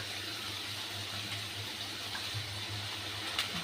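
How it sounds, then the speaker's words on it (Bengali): Water pours from a pan-side stream into frying spices for a Bengali fish curry, a continuous, moderately quiet gushing splash that holds steady throughout, with no voices. "জল দিয়ে দিয়ে একটু কষিয়ে নিই"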